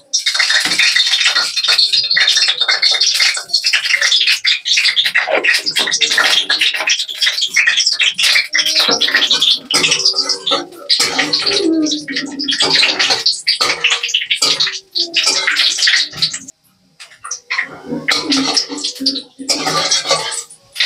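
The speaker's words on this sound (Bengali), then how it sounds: "কড়ার তেল গরম হয়ে গেছে, এবার আমি 5 ফোড়ন দিয়ে দেবো" Panch phoron spices crackle and spit in hot oil in a kadai, a loud, dense, hissing sizzle that runs almost continuously with brief dips, ahead of a tangy snakehead fish curry with potato and tomato.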